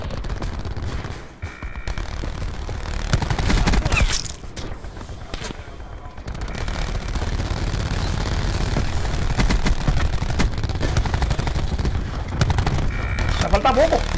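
Rapid automatic gunfire from a Black Ops 4 multiplayer match rattles continuously as players shoot at a sentry turret, loud and dense, with players talking over the shooting.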